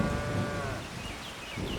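Cattle low repeatedly in Farming Simulator 25 on the Riverbend Springs farm, steady loud moos overlapping across the whole stretch with no talk.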